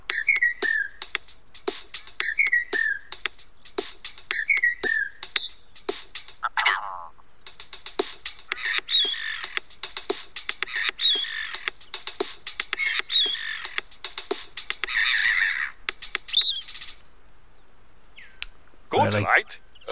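A short, playful song made from recorded bird calls in The Hunter: Call of the Wild, with chirps, squawks and whistles arranged in repeating bursts, followed by silence and a brief low sound.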